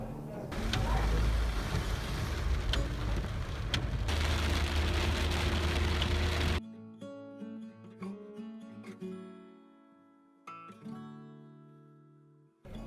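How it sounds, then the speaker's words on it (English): Rain falls during a drive on Ethiopian New Year, a dense wash of hiss for the first six seconds before it cuts away to quieter, sparser sounds. "of course on the way it rained again"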